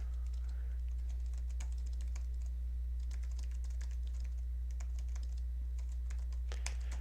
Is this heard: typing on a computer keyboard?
yes